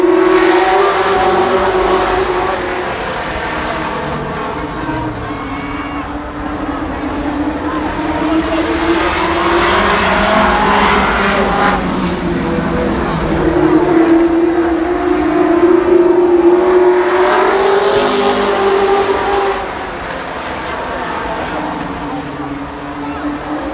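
Race cars at Columbus Motor Speedway in 1993 thunder through an 8-lap limited sportsman heat, engines roaring steadily and loud throughout, surging and fading as the pack passes, with an announcer's voice calling over the noise.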